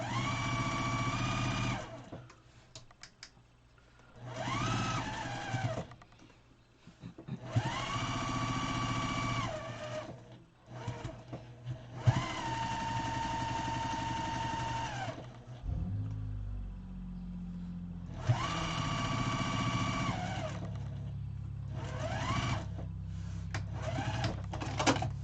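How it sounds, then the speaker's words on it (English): A sewing machine stitching quilt seams runs in several bursts of steady, humming whirring, separated by short pauses and quieter stretches, close and prominent. "let's sew it"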